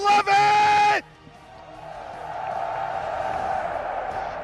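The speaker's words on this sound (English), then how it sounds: "Now it is your turn, crowd. Let me know how much you love it!" A large crowd at the EVO 2024 Grand Finals roars and cheers in a broad, sustained swell that rises and holds, following a loud blaring announcer line at the start.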